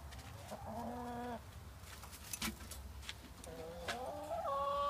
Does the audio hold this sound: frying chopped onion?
no